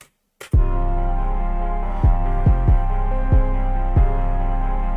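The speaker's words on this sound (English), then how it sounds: "Let's now hear the beat" A hip-hop beat with deep booming bass kicks over a sustained synth pad, punchy hits recurring in a loose, uneven rhythm.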